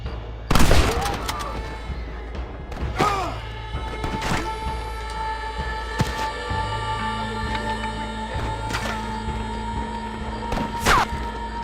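Gunfire in the video game Red Dead Redemption: several sharp shots crack out in quick succession, loud and close at first, then scattered single reports over a steady game soundtrack hum.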